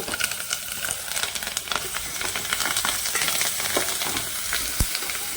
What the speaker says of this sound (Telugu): లాస్ట్గా కరివేపాకు వేస్తాను